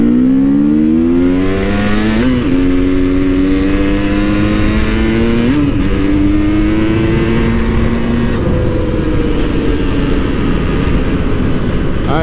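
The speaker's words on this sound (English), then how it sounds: "Shouldn't be pushing this bike too hard, especially on the dirt tires." A KTM 300 EXC two-stroke dirt bike on dirt tires revs loud and close while riding, its engine note climbing and dropping through several gear changes over constant wind rush.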